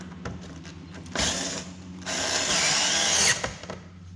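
Power tool tightening fasteners inside a Corvette C8 wheel well during a 2024 Corvette high wing spoiler install, with two sustained loud whirring bursts and faint clicks between them.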